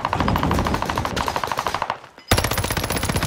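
Rapid automatic gunfire in a video game, loud and close, sustained bursts of sharp shots with a brief pause before the firing resumes.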